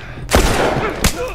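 Gunfire in The Last of Us Remastered on PS4, in a hotel level: two sharp, loud shots about three quarters of a second apart, each a sudden blast over a low background rumble.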